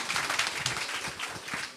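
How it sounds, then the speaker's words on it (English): A small group claps steadily for a couple of seconds at a political candidate reveal, the applause fairly quiet and a little distant, with no talking. "Can we give him a round of applause,"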